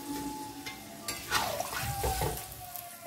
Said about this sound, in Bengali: আলু কুমড়োগুলো সিদ্ধ হওয়ার জন্যে আমি এই জলটা দিলাম